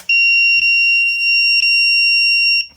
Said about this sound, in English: you can confirm that this piece over here is actually the buzzer